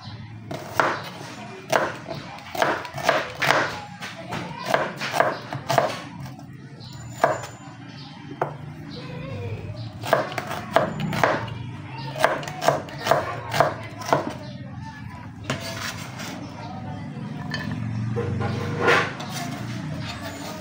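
An onion is chopped with a knife on a cutting board while preparing boneless milkfish sarsiyado. Irregular bursts of sharp, close knife taps repeat throughout, with short pauses and a low background hum.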